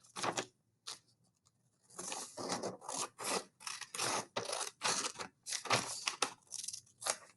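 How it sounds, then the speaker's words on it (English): Scissors snipping through folded paper along a rectangle line, a run of close, crisp cuts and rustles in uneven bursts separated by brief pauses. "let's cut along that rectangle line that we folded"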